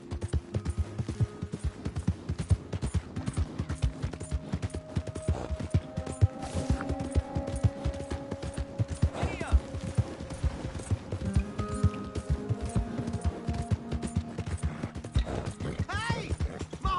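Horse hooves clip-clop steadily at a gallop in Red Dead Redemption 2, with an occasional whinny, under game music and a shouting voice.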